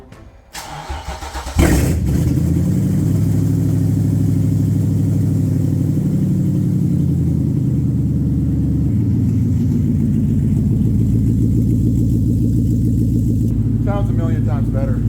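An Infiniti G35 coupe's VQ engine with its catalytic converters removed cranks and fires after a brief starter whir, then settles into a loud, throaty idle with a steady, lumpy exhaust burble that holds to the end.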